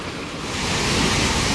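A forceful waterfall on the Kudremukh trek: water rushes with a steady, loud broadband roar that swells slightly and holds constant, with no voices.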